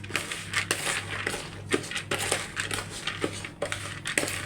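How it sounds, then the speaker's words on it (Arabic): Soaked rice being stirred with spices in a deep pot, a steady gritty scraping and rustling that keeps going close up, with small clinks from the spoon. "نقلب الرز كده كويس"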